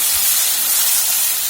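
Chopped tomatoes hit hot oil with frying onions and garlic, giving a loud, continuous bright sizzle and hiss that holds steady throughout, close up and with no talk.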